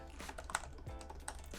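Brief keyboard typing on a computer while entering text in Adobe After Effects design software, a short run of quick light key clicks at close range with no voices.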